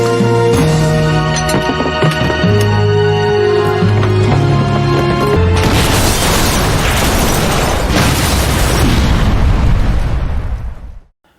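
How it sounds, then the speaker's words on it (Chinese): Hand grenades detonating inside a bus during a military standoff: a sudden loud blast mid-clip erupts into a broad, roaring rumble that sustains for several seconds over tense music before cutting off. "果断在巴士内共同引爆手榴弹。"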